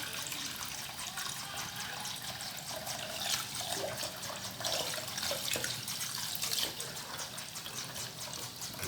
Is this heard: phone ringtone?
no